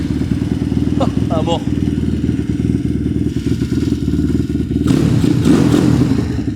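A motorcycle engine is kick-started and runs with a low, chugging rumble, picking up into a louder rev toward the end; a metallic clatter comes early and someone speaks briefly.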